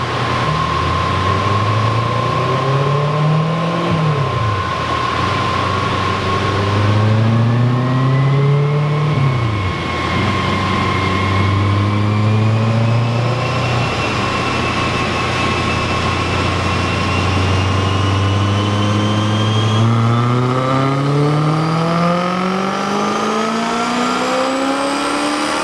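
BMW E90 M3 engine on a dyno, revving up through repeated loud sweeping pulls that climb in pitch, drop, and rise again, with a steady high tone underneath and no talking.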